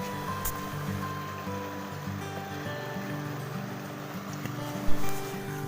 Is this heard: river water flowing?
yes